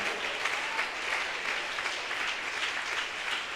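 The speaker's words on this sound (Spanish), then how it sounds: "Dele ese aplauso al Señor." A church congregation claps continuously and evenly during a communion service, a dense steady patter of applause at moderate distance with no voices standing out.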